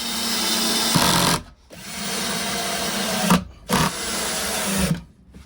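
A power tool bites into the corner of a camper table in a custom Maverick camper build, whining loudly in long bursts with short pauses between passes, close and steady, no voices.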